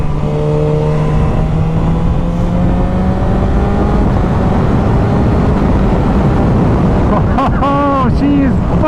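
A Suzuki GSXR750 sport motorcycle on a wet dual carriageway on a damp day: a steady engine drone under loud wind rush, with a rising tone late on as the revs climb.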